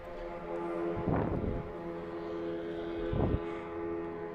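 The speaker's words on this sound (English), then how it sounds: "We hear the drone coming in, flying over." A drone flies over the city of Voronezh, Russia, a steady droning buzz with rich harmonic hum holding throughout, broken by two short louder rough bursts.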